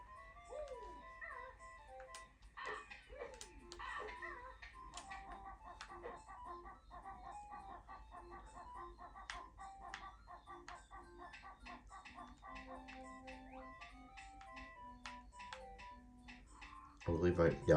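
Birds squawking in Banjo-Kazooie over a bouncy, chiming game melody, with clucking, crowing calls scattered throughout, fairly quiet under someone talking.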